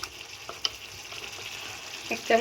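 Ghee goes into a hot pan of jackfruit dalna, giving a soft close sizzle with a few light spoon taps and a brief brighter crackle near the end.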